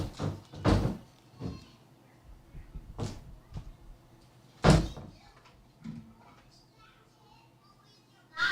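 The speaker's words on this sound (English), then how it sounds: "Close the doors, please." Doors are shut several times in a room, giving loud thuds and knocks spread across the scene, while people talk quietly in the background.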